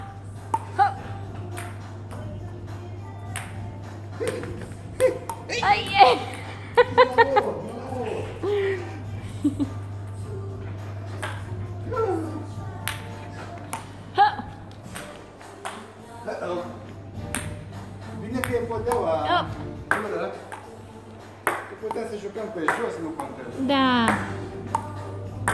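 Sharp ping pong ball clicks off paddles and a table sound in an irregular rally, mixed with a child's and a father's voices talking and calling out throughout.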